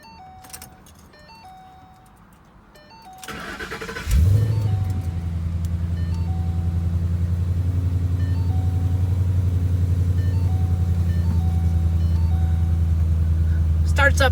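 A 2012 Ford Mustang GT convertible cranks briefly, then its engine catches and settles into a deep, steady idle rumble, close and loud, after a few quiet seconds with faint beeping chimes.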